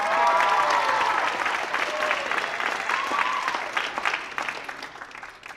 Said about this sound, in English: I want to give yourself a round of applause.